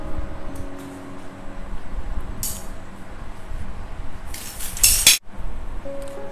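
Shears snip a branch while pruning a Ficus Rumphi bonsai: a couple of short metallic clicks and rustles over quiet room noise, ending in one sharp cutting snap.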